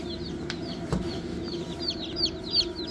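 Baby chicks cheep in a brooder, a busy chorus of short high chirps overlapping close by, with a couple of soft bumps and low background rumble and no talking.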